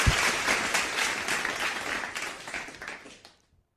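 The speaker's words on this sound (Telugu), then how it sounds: "ఆయనకు మనం అంతా గట్టిగా చప్పట్లతో స్వాగతం పలుకుతాం రమణాచారి గారికి" An audience claps steadily and warmly to welcome a guest onto a stage, a dense sustained round of applause that holds evenly for about three seconds, then tapers off and stops abruptly.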